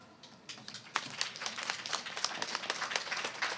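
Audience applauding police officers at a Detroit community event, the clapping building from scattered individual claps into a lively, sustained round of applause that carries to the end.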